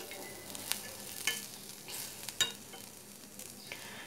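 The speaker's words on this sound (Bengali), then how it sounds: "আর কয়েকটা কাঁচামরিচ দিয়ে এখন একটু ভেজে নিচ্ছি।" Green chillies fry in a pan for a Bangladeshi bhorta, giving a soft, steady sizzle with a few brief clicks of stirring. No voices are heard.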